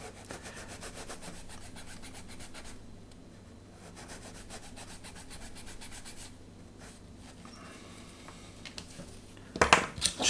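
A sanding stick rubs back and forth on a small wooden part for a model of the ship HM Sherbourne, giving quiet, rhythmic scratchy strokes with a brief pause, then louder clattering handling at the end.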